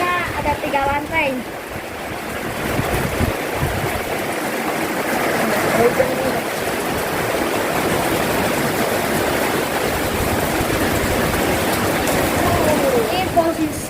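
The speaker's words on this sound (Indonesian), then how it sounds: "Wah, hujan angin guys." Heavy rain driven by strong wind pours steadily around a three-storey house during a flooding storm, a dense, unbroken roar that fills the whole clip, with a faint voice briefly present near the start.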